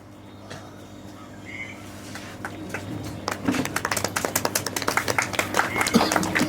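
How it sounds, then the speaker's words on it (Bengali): An audience at an annual festival seminar gives a guest a welcoming round of applause, starting as a few scattered claps that build into steady, moderately loud clapping, with faint voices underneath. "একটা জোরে হাততালি ওনার জন্য।"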